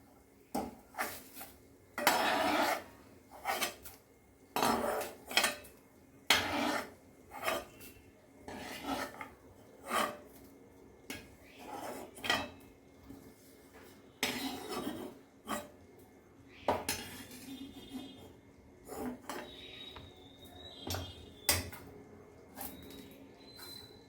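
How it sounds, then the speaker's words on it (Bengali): A ladle scrapes and clatters against a kadai as fried curry leaves are lifted out of the oil, in a run of sharp, rhythmic metallic scrapes with quiet gaps between them. "এবার আমি এগুলোকে কড়া থেকে নামিয়ে নিচ্ছি।"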